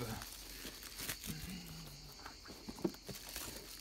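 Crickets or cicadas chirp at a campsite in a thin, continuous high drone. It sits behind close rustling, handling knocks and faint low murmuring.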